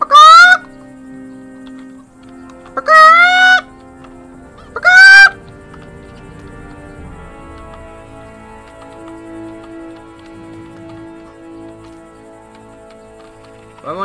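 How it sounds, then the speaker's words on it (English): Chickens in the video game Kingdom Come: Deliverance make three loud, sharp squawking bursts with a rooster-like crowing quality, separated by quiet stretches of low ambient hum. "Chickens! Kill the fucking chickens!"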